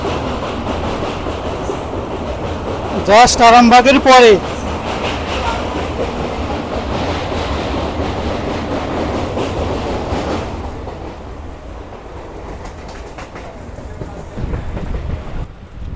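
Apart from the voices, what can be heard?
Howrah-Goghat local train crossing a river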